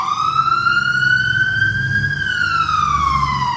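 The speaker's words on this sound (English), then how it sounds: "That was the ambulance." An ambulance siren wails loud and near in one long sweep, rising then slowly falling in pitch over road rumble, with no talk.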